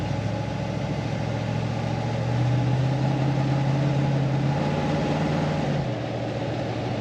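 An old farm truck's engine runs steadily up close, its drone rising slightly in pitch and then dropping away as it stumbles near the end, with no voices over it.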